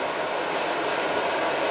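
A potter's wheel throwing small planters runs with a steady, even whirring hum that holds at a constant level throughout, close and continuous with no talk.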